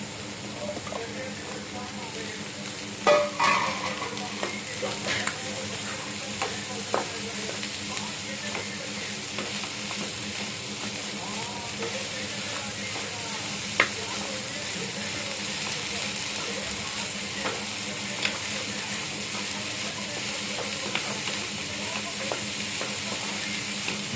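Peanuts stirred into a bhel mixture in a pan, a steady sizzle with scattered scraping clicks of the spoon against the pan, with occasional voices in the background.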